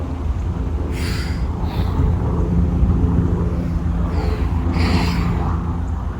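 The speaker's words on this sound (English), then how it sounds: "All the helicopters out today." A loud, continuous low rumble of a helicopter passing overhead, with a few faint breathy sounds on top.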